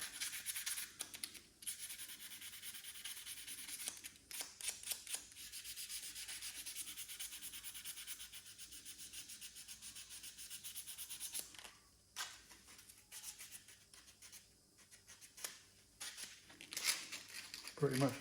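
Sandpaper of about 320 grit rubs brake dust and carbon buildup off a brake part on an MG ZS 180, a steady close scratchy scrubbing in long strokes with short pauses and a few sharper bursts near the end.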